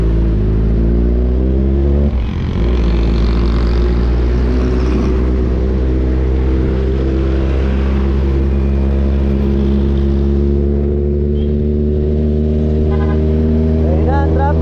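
Heavy road traffic near SM Santa Rosa in Laguna, with a loud, continuous engine drone of slow-moving vehicles heard from close by, steady throughout and occasionally swelling.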